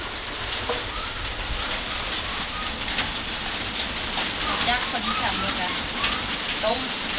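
Steady, dense rain patters across a surface as a continuous wash, with occasional louder drops and faint birdlike chirps in the background.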